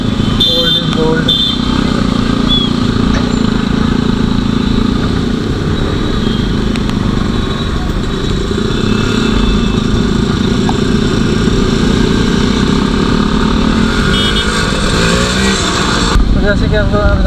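Old Yezdi motorcycles idle and ride together, a loud continuous engine drone with people talking over it throughout.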